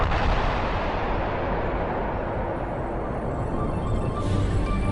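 An atomic bomb detonation in the desert: a sustained, loud, deep roaring rumble that fills the whole span, steady and heavy with no voices over it.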